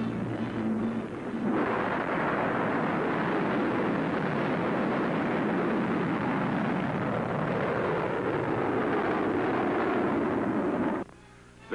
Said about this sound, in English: The rocket, which stands 46 feet and weighs 14 tons, is driven by liquid oxygen and alcohol.